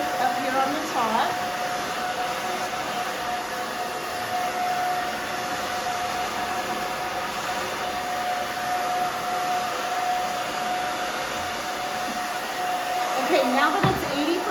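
A hair dryer blows steadily at close range for the whole stretch while a stylist dries a cut A-line bob, a loud continuous whooshing roar with a faint steady whine riding on top.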